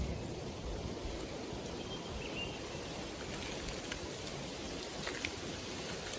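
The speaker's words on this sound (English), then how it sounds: "And here comes the rain" Steady rain hiss, soft and continuous, with faint scattered drops tapping nearby and no voices.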